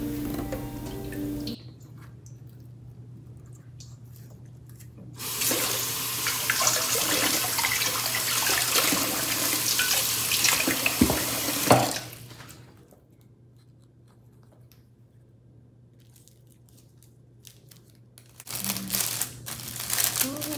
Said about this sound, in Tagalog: Kailangan ko itong ilagay sa tubig o basain ng madali lang para madali ang pag-push.